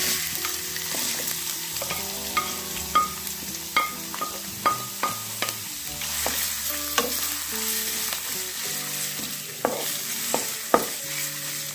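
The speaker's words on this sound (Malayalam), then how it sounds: "ഇതിലേക്ക് നമ്മൾ അരിഞ്ഞു വച്ചിരിക്കുന്നതായ ഇഞ്ചി ഇട്ട് വറുത്തെടുക്കാം." Chopped ginger sizzles in hot coconut oil for an Onam-style inji curry, a continuous close frying hiss broken by repeated sharp scraping and stirring knocks throughout, with no voices.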